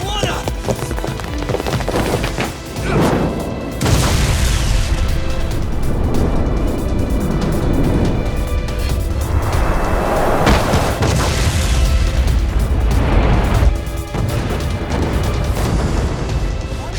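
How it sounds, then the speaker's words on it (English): A ship explodes in the video game Lost Judgment with loud, continuous booming and crashing debris, dense bursts of blast noise that swell and roll on, with shouting voices breaking in over the chaos. "This ship just exploded!"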